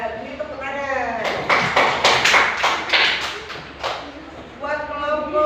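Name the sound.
class clapping hands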